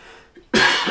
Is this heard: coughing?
yes